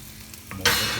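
Masala omelette cooking in an oiled pan, a quiet moment followed by a sudden burst of bright, steady sizzling as it is moved around, close up.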